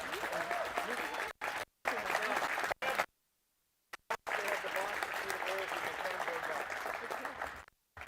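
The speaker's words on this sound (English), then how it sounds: "One more round of applause for them." Audience applause at the USA Curling Club National championship for the women's champion team, choppy clapping broken by several abrupt silent gaps, with voices faintly mixed in.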